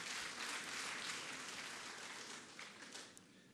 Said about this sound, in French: On applaudit le président de la République.